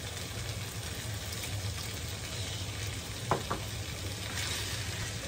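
Tomato stir-fried into tom yum fried rice in a home kitchen: a steady close sizzle and frying hiss runs throughout, with a couple of sharp clicks of a utensil against the pan near the middle.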